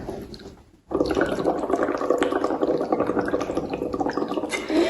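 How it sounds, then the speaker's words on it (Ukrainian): Air blown through a straw into a cup of water makes steady gurgling bubbles that run close and continuous for about four seconds after a brief pause, during a breathing exercise. "починаємо дути у соломинку так, щоб на поверхні водички у нас утворилися бульбашки"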